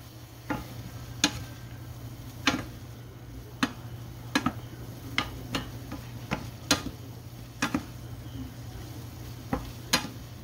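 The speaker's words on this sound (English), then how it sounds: "Go ahead and just give that a stir." A spoon stirring crushed pepper into a cooking pot, sounding as a soft background sizzle broken by sharp, irregular clinks of utensil on metal roughly every second, with no speech.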